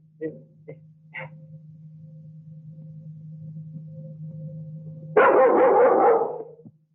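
A dog barks in a quick burst of several loud, close barks near the end, after faint short yelps and whimpers over a steady low hum.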